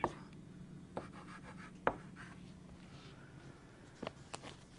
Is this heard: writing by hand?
yes